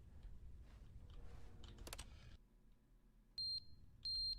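A fire alarm in The Stanley Parable video game sounds as two loud, sharp electronic beeps near the end, after a stretch of clicking and rustling noise and a low hum.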